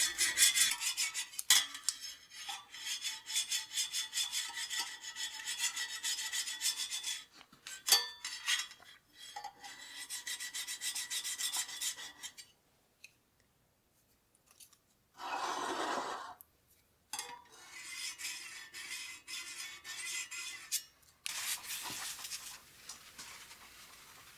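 A metal spatula scrapes hard across the surface of a small cast iron pan in long, rasping, sustained strokes, loud and close, broken by a few short pauses.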